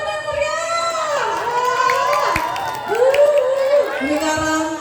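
Crowd at an elementary school grade-promotion performance in Cijeungjing cheers and whoops over a loud amplified voice, with scattered shouting and applause building briefly in the middle of the stretch.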